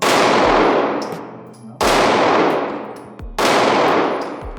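Springfield XDM Elite Compact 9mm pistol firing outdoors, three loud sharp shots spaced about one and a half seconds apart, each followed by a long ringing decay and a faint clang.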